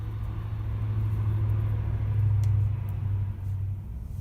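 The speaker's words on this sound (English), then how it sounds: "You can hear a train in the background." A train rumbles in the background: a continuous, low, droning roar that swells gently in the middle, heard alone and at a distance.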